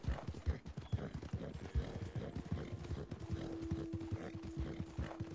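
Steady clip-clop of horse hooves in Red Dead Redemption 2, a fast rhythmic trot close by, with a low engine-like drone joining partway through.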